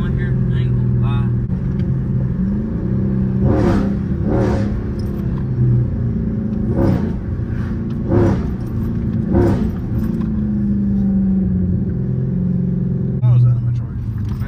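A Chrysler 300 SRT 392 engine drones and rumbles steadily from inside the car, with a few louder surges, under almost continuous talk.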